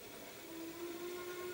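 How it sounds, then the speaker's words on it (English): Passing train in the farming video game Stardew Valley, a steady faint rumble topped by a long, even whistle tone that holds for about a second, with no talking. "Do not get hit by this train, you will lose health or energy or whatever."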